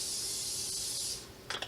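Cooking spray hisses from a can into a pan on medium-low heat for about a second, a soft steady spray that stops and is followed by two faint clicks.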